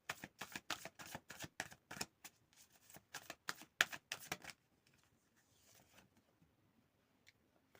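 Tarot cards shuffled in a rapid run of crisp riffling snaps for about four seconds, then a few faint soft card slides and taps in near silence.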